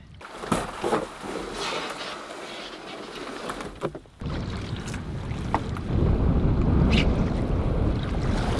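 A canoe moves onto Sturgeon Lake against a headwind, with water sloshing and scattered paddle splashes under constant gusty wind buffeting that swells louder toward the end.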